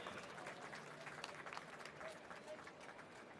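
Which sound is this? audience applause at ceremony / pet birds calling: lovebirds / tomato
audience applause at ceremony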